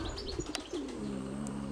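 Pigeons nearby, soft coos and chirps with a quick flutter of wings, fairly quiet against a steady outdoor background hum.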